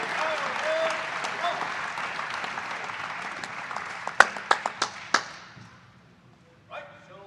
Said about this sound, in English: A big round of applause for Gabby Reyes.